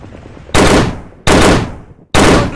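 Heavy gunfire and artillery in a modern commando video game: three loud, sudden blasts arrive roughly a second apart, each bursting in hard and decaying into a rumbling tail, close and alone without speech.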